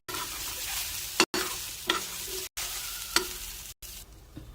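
Chopped onion being sautéed in a pan on a switched-off gas flame for methi thecha: a soft, continuous sizzle broken by sharp spoon scrapes and knocks against the pan roughly every half second, close and unaccompanied by talk.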